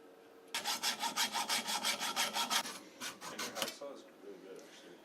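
A Stanley hand saw cuts through a metal enduro motorcycle turn signal mount in quick, even back-and-forth strokes, about a dozen in a steady run, then a shorter burst of slower strokes, close and clear.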